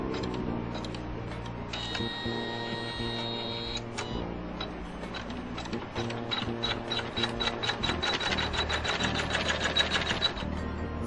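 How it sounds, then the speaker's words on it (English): An embroidery machine basting a fabric leaf into place with wash-away thread in a rapid, steady mechanical ticking rhythm, loud and close throughout. "make sure I stay out of the way of the machine. And it is going to baste with the wash away thread"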